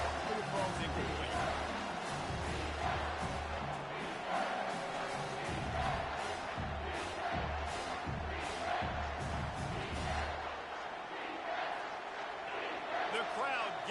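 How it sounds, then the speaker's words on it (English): Stadium crowd in the video game College Football 25 roars steadily behind the defense during a red-zone stand, a loud, sustained wall of cheering with a commentator talking over it. "The crowd getting behind this defense as they try to get a stop in the red zone."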